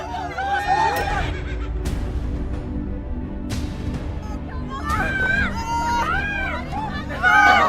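A horse whinnies several times at close range, with rising and falling squeals, amid shouting voices and the commotion of a crowd of people.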